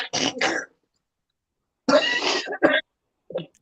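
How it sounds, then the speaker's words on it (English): A man coughs in short harsh bursts: a quick double cough, a longer rough hack after a pause, then a final small cough, close and loud with silence between. "Try not to cough too much, dude."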